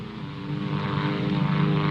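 A propeller airplane flies overhead in a wartime setting, a steady droning engine hum that holds even and slowly builds, with no voices heard.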